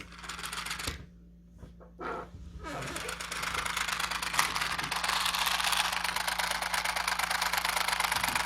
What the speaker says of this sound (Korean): 제가 이 자동차를 구동을 해 보겠습니다.